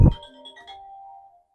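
Mobile phone ringtone playing a short chiming melody after a sharp thump, ringing out moderately loud and fading away, with no talking.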